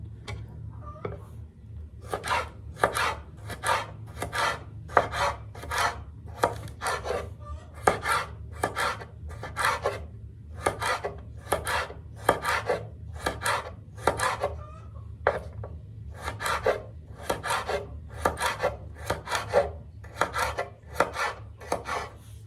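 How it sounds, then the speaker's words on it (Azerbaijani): Cabbage being chopped with a knife in a village kitchen: a steady run of sharp, close chopping strokes in quick rhythm, continuing without pause and with no talk. "Kələmin hamısını doğradım."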